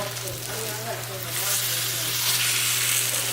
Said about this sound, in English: French toast is in here. It's cooking up.